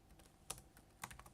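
A few soft keystrokes on a computer keyboard, two sharper clicks with lighter taps between them, quiet and close, with no talk.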